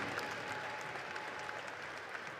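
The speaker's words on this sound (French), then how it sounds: "On peut les applaudir bien fort," Steady applause from a gala audience for the footballers of a legends team at a French federation charity match, dense continuous clapping filling the whole stretch at moderate distance, with no voices over it.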